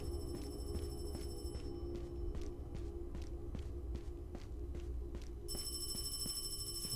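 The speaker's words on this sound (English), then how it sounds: "whose phone is that?" A faint electronic phone ring repeats in regular pulses over a low background hum in the horror game Paranormal HK, with a tone shift near the end.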